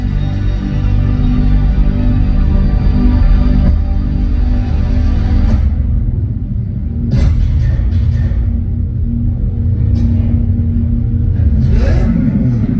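A deep, loud Lamborghini Revuelto plug-in hybrid V12 engine rumbles steadily and revs up in surges, the roar swelling and easing close by at a launch event.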